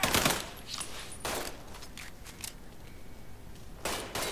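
Bursts of gunfire from the Mafia 3 video game, with rapid clusters of shots at the start, around one and a half seconds and again near the end, fainter crackling in between.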